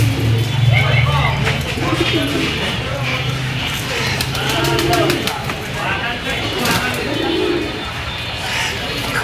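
A green male pigeon coos in a home loft during morning feeding. The low, rolling coos come several times over a steady background bustle, with occasional clattering sounds.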